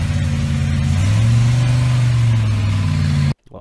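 A Ford Mustang engine revs loud and close, its low throaty note rising and holding steady for about three seconds before cutting off abruptly.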